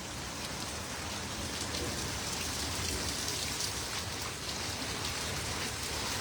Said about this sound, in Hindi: बिल्कुल कड़ाके की बारिश हो रही है और ओलावृष्टि भी हुई है थोड़ी थोड़ी।